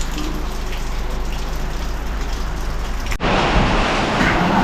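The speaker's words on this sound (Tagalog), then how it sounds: "Malakas ng ulan." Heavy rain pours down at a house construction site during kitchen extension work, a dense steady broadband hiss that swells louder and harsher partway through as the downpour intensifies.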